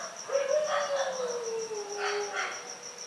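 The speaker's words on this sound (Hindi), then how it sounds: "क्या आप कुत्ते की रोने की आवाज को बुला सकते हैं?" A dog howls at night on a street, one long wavering cry that slides slowly downward and holds for several seconds, moderately near, with voices murmuring and a high steady whine in the background.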